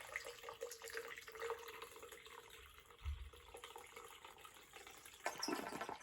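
Water squeezed from a rifle's action runs out of the barrel bottom while cleaning after corrosive ammunition, a soft steady trickle and splash like a running tap, with a brief low thump midway and a slightly louder spurt near the end.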